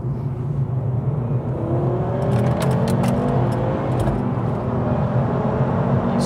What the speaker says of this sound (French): Tu nous refais un petit coup d'accélération.